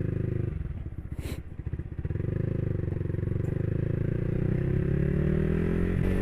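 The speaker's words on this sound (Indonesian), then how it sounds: "Mari kita naik motornya ya guys" A Yamaha R15 V3 motorcycle engine runs close by. It starts with a rough, uneven idle, then settles into a steady drone that slowly rises in pitch as the bike pulls away, with faint clatter over it and no talking.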